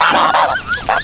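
A goose on a small farm with goats and ducks gives loud, close calls, a broad raspy burst followed by rising honk-like tones, filling most of the second.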